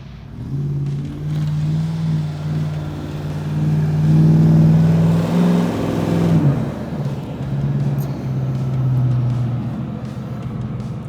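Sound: off-road vehicle engine revving while climbing a hill

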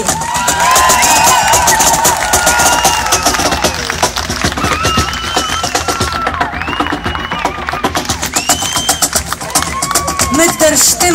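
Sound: audience applause and cheering at a festival concert

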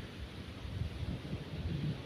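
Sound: wind

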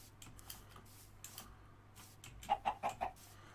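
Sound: chicken clucking in video game Minecraft

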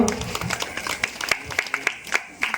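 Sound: children clapping

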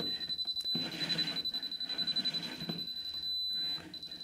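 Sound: pipe and cable detector warning beep

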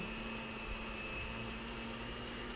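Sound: blender running

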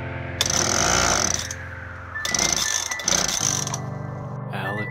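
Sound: leaf blower starting and running

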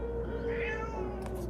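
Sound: cat meowing

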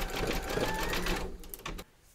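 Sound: embroidery machine zigzag stitching a hooped piece

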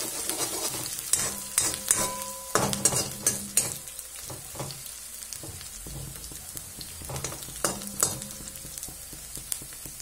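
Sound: onions frying and being stirred with ginger-garlic paste

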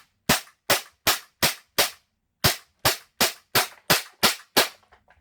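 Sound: Taiwanese WE Glock-17 BB gun firing a full magazine

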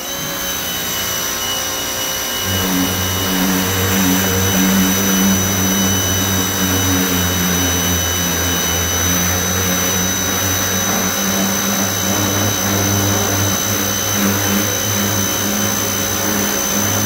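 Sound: pressure washer spraying car front bumper

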